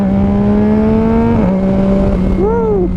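A 2019 Yamaha MT-09 motorcycle engine hums loudly while riding, its steady tone shifting down as it changes gear, then a brief rising-and-falling rev near the end, close and continuous.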